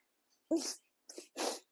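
A person sneezes close by: one sharp burst, then two quick breathy bursts, alone with no speech.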